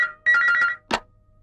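A telephone ringtone sounds in a short burst of rapid warbling trills, loud and close, followed by a single brief clack like a receiver being picked up.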